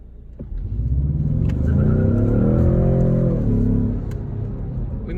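Ford Mustang EcoBoost accelerating hard in a neighborhood as the rear steps out, the engine revving up in a loud rising then falling sweep heard from inside the car, easing off at the end.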